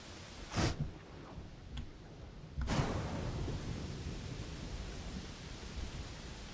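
A thunderstorm with steady heavy rain plays in the Pathfinder: Wrath of the Righteous video game; a sharp thunder crack is followed by a louder, continuous downpour hiss.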